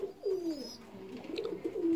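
Pigeons coo in a backyard aviary, soft rolling low calls overlapping close by, with a faint higher chirp early on and light rustling in the background; no one speaks.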